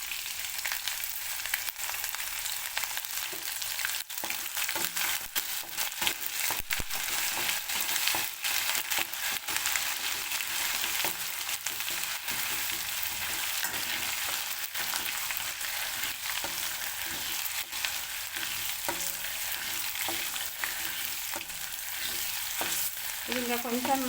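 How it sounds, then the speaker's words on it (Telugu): Spices tempering in hot oil with ginger-garlic paste for a small dosa chutney give a steady, even sizzle and crackle throughout, with no voices. "ఇది ఇంకా కొంచెం అయితే మంచిగా పోపు అవుతుంది."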